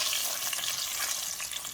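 Tomato paste and a shrimp stock cube sizzle and fry steadily in a saucepan, a constant close crackling hiss with light stirring, no voices.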